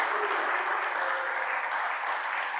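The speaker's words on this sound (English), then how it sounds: "One more round of applause for you." Sustained applause from a meeting audience at a quarterly company gathering, steady clapping that is fairly loud and continuous throughout with no other sounds.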